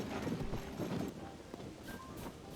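Hooves of a golden horse in the video game Zelda: Tears of the Kingdom clop steadily in the game world, set against a busy ambient background with no one talking.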